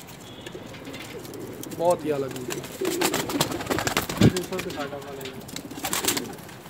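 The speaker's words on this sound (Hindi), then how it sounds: "बड़े ही नॉर्मल से दरमियाने से वजूद का कबूतर है" Breeder pigeons in a rooftop loft coo repeatedly in soft, throaty bursts, close by and mixed under someone talking in Hindi-Urdu.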